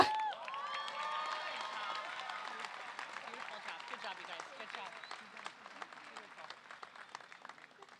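A commencement crowd applauds steadily, the clapping dense at first, then thinning out into scattered claps, with a few cheers near the start.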